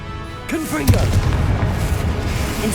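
Confringo fire spell blasting in Hogwarts Legacy, a deep booming explosion that rolls out into a rumbling tail as a voice calls a spell over it.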